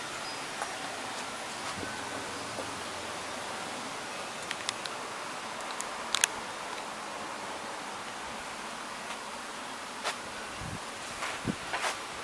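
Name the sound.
wind blowing and rustling leaves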